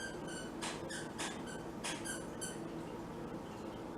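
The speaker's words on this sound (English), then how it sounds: "My minion is squeaking." Repeated high, thin squeaks from a small toy or pet in a home kitchen, coming in short clustered bursts over a steady low background hum, with no talking.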